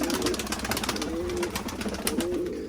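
Pigeons coo from a loft on a wet, humid day after rain, a repeated low rolling call sounding several times close by over a steady background hiss, with no talk.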